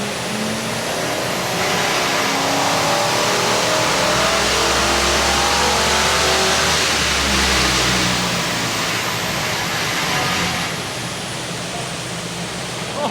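Ford AU XR8 with its 5-litre V8 held at a steady, loud, roaring rev on a dyno at a car dyno day, the engine note swelling slightly midway and then easing, with heavy broadband rumble and no speech.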